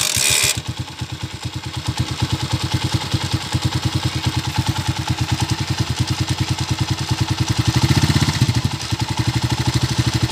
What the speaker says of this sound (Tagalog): Pakinggan natin yung andar ng motor ni Boss De Platino from Balongaw, Pangasinan